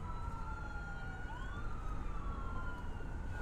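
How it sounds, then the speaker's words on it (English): Ambulance siren on an Austin street, a wailing tone sweeping up and down at a distance, fairly faint over steady street noise. "I hear sirens."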